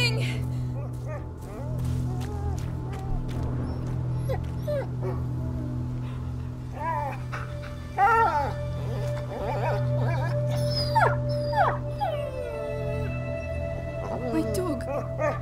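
A dog whimpers and yips in the video game A Plague Tale: Innocence, the high whines recurring in short bursts under a steady low hum of game music and ambience.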